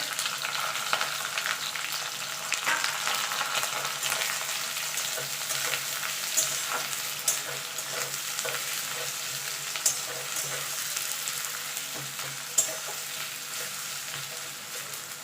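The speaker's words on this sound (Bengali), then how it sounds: "দিয়ে পেঁয়াজটা একটু লাল লাল করে ভেজে নেব" Three medium chopped onions fry in oil in a pan, a steady close sizzle with occasional stirring scrapes and small pops throughout, no talking.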